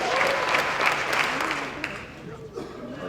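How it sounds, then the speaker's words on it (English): Crowd at the official opening of the YSK Exhibition 2019 clapping together in a rhythmic burst and shouting, a few distinct claps standing out amid a loud, dense wash of cheering voices. "So clap 5 times and shout out at the same time."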